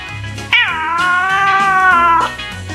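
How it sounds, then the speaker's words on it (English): A tired pet cat gives one long, loud, drawn-out meow, close by, rising and then holding steady for over a second before it fades. "Say meow."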